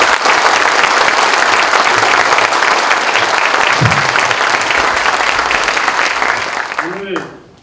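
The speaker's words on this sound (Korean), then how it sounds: "그동안 고생하셨다는 칭찬 박수 한번" A large audience at a Korean university ceremony bursts into sustained applause for the outgoing university president, dense clapping filling the hall for several seconds before tapering off, with a voice briefly speaking at the end.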